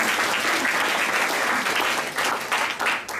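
A church congregation at a Christmas service applauds steadily, a dense, even wash of many hands clapping together at moderate loudness throughout.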